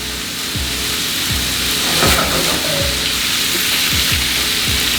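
Potatoes, vegetables and pork chops sauté together in one pan, a loud steady sizzle with periodic scraping stirs of a utensil against the pan, no one talking.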